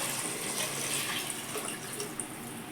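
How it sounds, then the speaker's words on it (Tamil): Water pours steadily over soaked, washed rice in a pot for biryani, a soft continuous splashing rush at close range with no voices. "கழுவி தேவையான அளவு தண்ணி ஊற்றிக்கலாம்."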